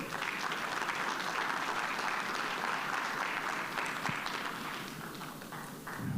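Conference audience applauding to welcome a guest lecturer, a dense, sustained wash of many hands clapping that fades slightly toward the end.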